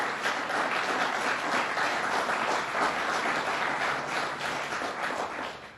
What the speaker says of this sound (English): Let's give them a round of applause for a job well done on this.